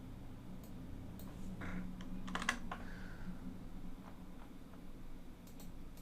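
Computer keyboard typing with shortcut key presses such as select-all and paste, sparse clicks and short bursts of keystrokes close up over a steady low hum.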